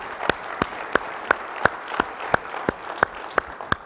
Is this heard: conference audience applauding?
yes